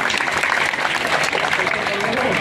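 An audience claps loudly and continuously at a Raslila religious performance. The applause is a dense, even patter that fills the whole moment, with voices mixed in.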